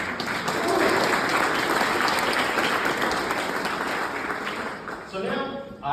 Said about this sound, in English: a big round of applause for all of our former Schoellkopf winners